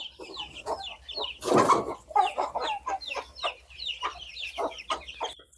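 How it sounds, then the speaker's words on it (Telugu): Several free-ranging native country chickens cluck nearby on a farm in quick, irregular bursts, with one louder squawk partway through; no talking. "ఇంకా గూడికి రాలేదండి కోళ్ళు మేస్తున్నాయి"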